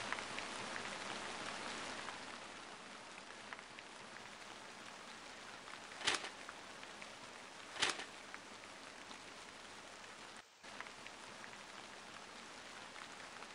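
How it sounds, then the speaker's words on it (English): Steady, soft rainfall from the RPG Maker horror game Forest of Drizzling Rain, a continuous hiss with a couple of brief louder spikes and one short dropout. "The rain has become quite terrible."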